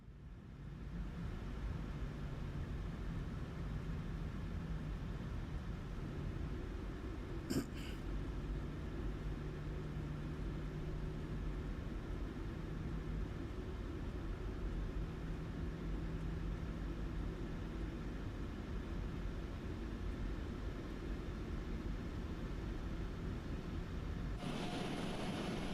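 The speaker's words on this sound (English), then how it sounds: "Let's switch on the APU." Steady mechanical hum and whine of a Boeing 737-800 APU running in a flight simulator, a continuous drone holding level throughout with a brief click partway in.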